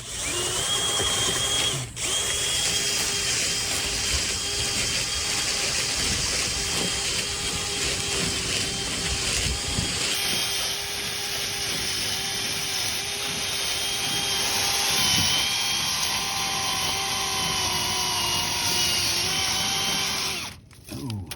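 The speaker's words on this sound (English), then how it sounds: "I don't know if y'all heard the drill grind down on itself" A power drill whines steadily and loudly for a long stretch while cleaning a metal dryer vent, its tone shifting midway as it grinds down, then cuts off near the end.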